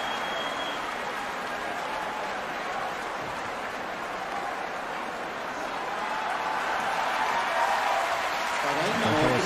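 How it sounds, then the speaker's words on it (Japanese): A packed sumo arena crowd applauds Asashoryu's scooping-throw win for a 13-0 record, a dense, continuous wash of clapping that swells slightly toward the end. "土俵下がいっぱいの拍手です。"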